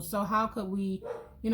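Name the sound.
dog barking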